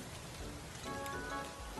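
Steady rain patters on a hard surface, a dense, even hiss of drops that holds for the whole stretch with no voices.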